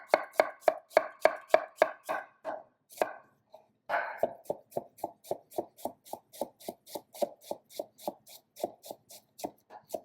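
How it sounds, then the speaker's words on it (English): Knife chopping an onion on a cutting board, a fast steady run of crisp close taps that pauses briefly and then resumes at a slightly slower, even rhythm. "I'm going to chop this onion super small"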